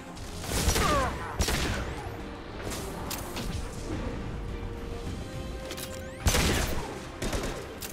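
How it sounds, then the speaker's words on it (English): High-impact gunshots ring out in a Mass Effect 2 firefight against a krogan, with several sharp loud blasts near the start and another heavy burst later over continuous battle noise and no talking. "Firing a high impact shot."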